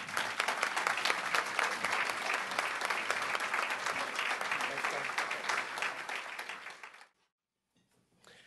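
An audience welcoming Senator John Harrington at a stakeholders luncheon with sustained, loud applause, a dense wash of clapping that holds steady, then tapers and stops, leaving near silence with a few faint sounds.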